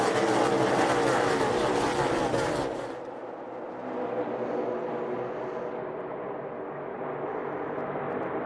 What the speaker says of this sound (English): Two JGR cars fighting it out up front for the lead.